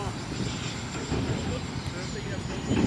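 A Freewing 90mm F-104 Starfighter model jet on 8S power roars steadily overhead at an airfield, a continuous broadband whoosh that swells slightly near the end, with a faint high whine riding above it.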